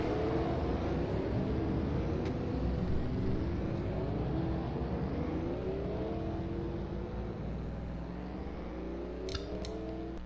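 Race cars in an Iowa stock car racing video game sweep past one after another, engines droning and shifting pitch as they pass, steady and fairly loud with no talk.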